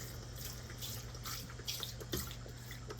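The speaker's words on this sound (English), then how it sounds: "now I go ahead and start filling this thing up with my lemon juice." Lemon juice is poured into a pan, a faint steady trickling splash with small drips, close and unbroken, with no talking.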